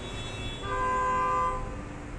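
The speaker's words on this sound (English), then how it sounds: "Man honking his horn for no reason." A car horn blares in one sustained honk of about a second, rising over a constant background hum and then cutting off, with no speech.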